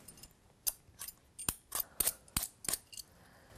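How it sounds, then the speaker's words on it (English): Apples are peeled by hand at a kitchen counter, producing a quick run of about ten sharp, crisp scraping snaps in a fairly regular rhythm, close and clear against near silence. "next thing is we're going to start peeling the apples"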